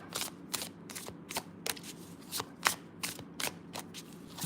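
Tarot cards shuffled in a steady run of crisp riffling bursts, close and clear, about ten quick flutters with short pauses between them, no voices.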